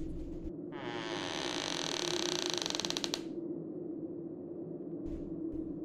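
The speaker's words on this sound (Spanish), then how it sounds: "Entonces la puerta se abrió." An old door creaks open in a long, drawn-out groan with a rising, ratcheting texture near its end. It is loud and close over a low steady hum, and a faint knock follows.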